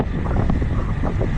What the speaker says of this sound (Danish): Med rigtig meget vind.